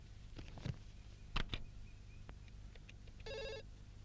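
A landline telephone rings indoors, giving a short burst of bright, rapid bell-like trilling after a few scattered knocks and clicks, with no voices.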